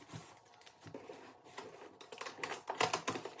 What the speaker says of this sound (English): So I'm going to go ahead with the tape and just tape it down nicely.